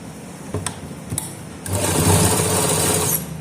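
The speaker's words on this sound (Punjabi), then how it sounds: "ਫਿਰ ਆਪਾਂ ਨੇ ਇੱਥੇ ਇੱਕ ਸਲਾਈ ਹੋਰ ਲਗਾ ਦੇਣੀ ਹੈ" Sewing machine stitching a pocket onto pajamas: two short clicks of the needle mechanism, then a loud continuous mechanical whir of stitching for about a second and a half before stopping, close and alone.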